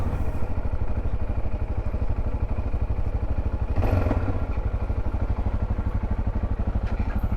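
A broken motorcycle riding along a remote outback road near Broome, its engine running steadily and loudly throughout with a rough, pulsing rhythm and a brief surge partway through, no talking.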